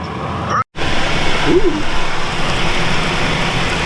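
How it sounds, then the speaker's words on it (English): Rain and a storm pour down outside an RV at a Galveston Bay RV resort, making a loud, dense, continuous hiss that cuts out for an instant near the start and then resumes. "it's raining and storming outside"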